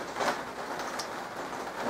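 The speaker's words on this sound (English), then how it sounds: "I can't edit it out, so you hear a bunch of rain hitting it." Rain pattering on a sunroom roof, a faint, even hiss of drops heard indoors with no one speaking.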